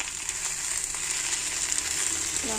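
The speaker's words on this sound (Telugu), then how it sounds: "కడిగి పెట్టుకున్న చుక్కకూరని ఇందులో వేసుకోవాలి. దీన్ని కూడా ఫ్రై చేసుకోవాలి." Onions and washed sorrel leaves (chukka kura) fry in a pan, a continuous soft sizzle with faint stirring scrapes and no talking.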